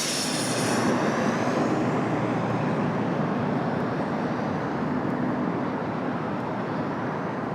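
A Copa Airlines airplane passes overhead, its loud, broad engine roar sustained throughout, strongest at the start and slowly easing as it moves away, with no talking.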